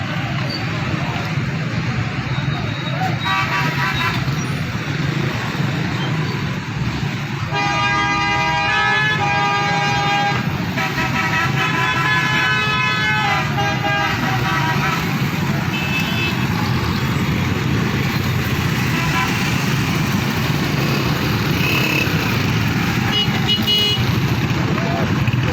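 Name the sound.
motorcycles passing through a toll plaza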